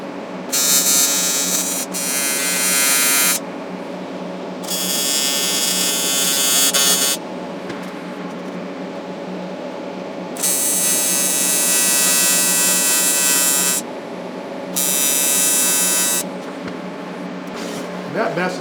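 Close TIG welding on the steel frame of a 1/5th scale RC SnoCat, with bursts of bright hissing arc buzz switching on and off several times over a constant low workshop hum.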